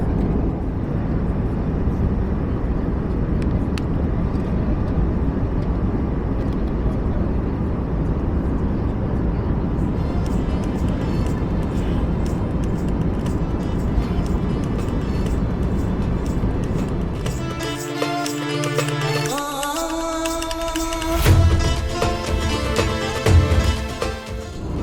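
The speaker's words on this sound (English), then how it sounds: "now it's time to look at the seat we've got today on board this British Airways Airbus A320" Steady broadband cabin roar aboard a British Airways Airbus A320 in flight, loud and continuous for most of the stretch, with clattering and rustling near the end.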